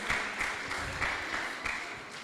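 Audience applauding at the finals of a squash championship, honouring referees, coaches and parents; a steady, dense wash of clapping from a crowd with slight swells, continuous throughout.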